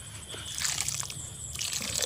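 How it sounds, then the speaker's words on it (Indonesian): Plain water poured onto recycled potting soil in a polybag, a close, steady splashing and soaking patter with brief crunchy bursts, no talking. "Pertama saya siram air biasa aja dulu guys."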